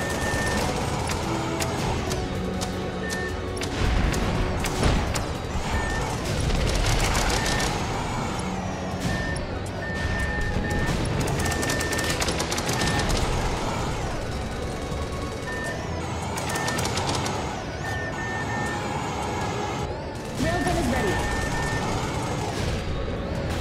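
A ray gun fires repeatedly in the sci-fi video game Project Nimbus, giving recurring electronic zaps and bursts over a dense, continuous bed of combat noise and music.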